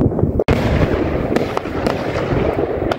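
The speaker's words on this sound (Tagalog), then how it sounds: "Dito natin, pakita natin mga Cubs yung putukan." New Year fireworks bursting in Poland, a dense continuous crackle of firecrackers with repeated sharper bangs, loud and close, with no talking.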